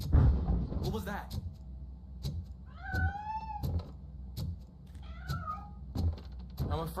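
A cat meows several times, with clear rising-and-falling calls around the middle of the stretch, set among repeated sharp thuds and knocks and a low background rumble.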